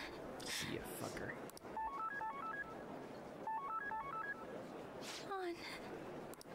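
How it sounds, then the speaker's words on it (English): A phone in the video game Persona 5 Royal gives two short bursts of stepped electronic ring tones, one after the other, under constant talk and background game sound, followed by a falling synth blip. "each time the phone rings, it says PIPI, right?"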